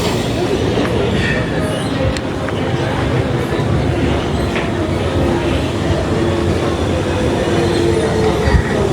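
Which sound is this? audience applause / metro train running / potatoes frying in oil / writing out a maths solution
metro train running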